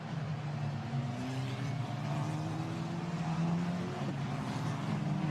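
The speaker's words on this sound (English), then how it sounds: "Safety car turns downhill." A race safety car on the Imola circuit is heard from a distance as a faint, steady engine drone with slowly gliding tones, its pitch shifting gently as it moves along the track.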